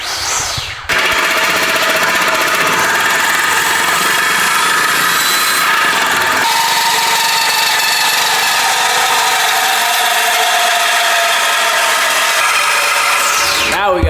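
Power tool cutting through an aluminum Pagani Huayra wheel, a loud, harsh, continuous grinding roar that fills the clip and shifts pitch partway through.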